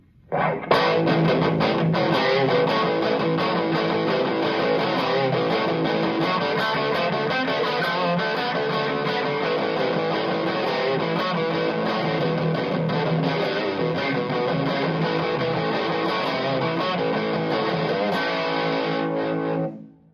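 A distorted electric guitar on its bridge pickup, through a Quilter Micro Pro 200 Mach 2 12-inch solid-state amp, plays loud, sustained chords and riffs with a thick, saturated tone, continuous for about twenty seconds before cutting off.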